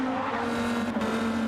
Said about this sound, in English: Now as you can see, that car's starting to slide.